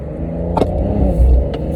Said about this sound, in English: just mash the gas as hard as you can right now and have the back end spin out on you